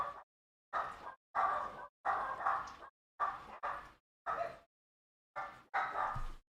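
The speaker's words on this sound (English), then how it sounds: "Sorry about the dogs." Dogs bark in the background of a live online roundtable call, several separate bursts of barking and yips at an irregular pace, fairly close and moderately loud, with short silent gaps between them.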